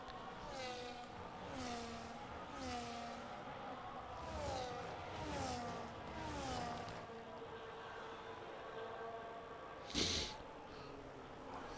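Race car engines on the start-finish straight at the Qatar circuit, a whining, harmonic drone that repeatedly rises and falls as the cars pass, with a brief sharp knock near the end.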